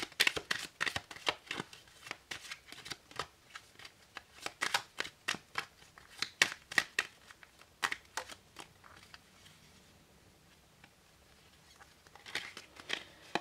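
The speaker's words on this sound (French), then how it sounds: "Alors on va tirer trois cartes du Merry Christmas." Tarot cards shuffled and drawn by hand, rapid close riffling and flicking in dense bursts that thin out into sparse slaps and rustles, fairly quiet with no talking.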